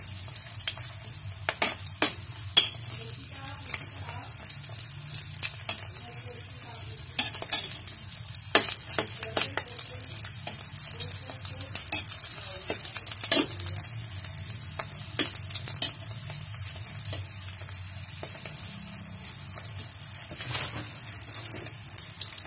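Tuyo dried fish frying in a pan gives a steady, close crackling sizzle with scattered sharp pops throughout, heard alone and without talk.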